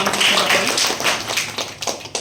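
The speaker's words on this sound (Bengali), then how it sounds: "ওনার জন্য জোরে হাততালি হোক" An audience claps for an honoured guest at a commemoration of Netaji Subhas Chandra Bose. The clapping is a dense, steady patter that stays fairly even from start to finish, with no voices over it.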